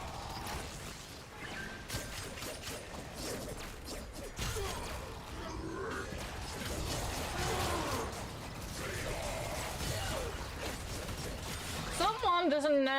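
In a video game, an extractor deploys at a void treasure site, sounding as a busy run of mechanical clanks, ratcheting clicks and whooshes. It ends in a rising, warbling electronic tone.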